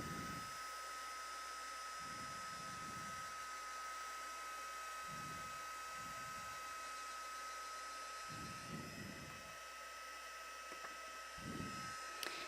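A crafting heat tool blowing hot air to melt embossing ink and powder, a steady high whine with a continuous airy rush and periodic low thumps throughout, close and alone.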